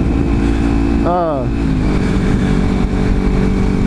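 A loud aftermarket exhaust drones steadily, with one quick rev rising and falling early on, then settles back into a constant close rumble.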